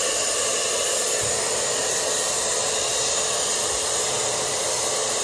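A handheld Jellyfish pet dryer blows continuously on a short-haired dog, a loud steady whooshing roar of air with no breaks.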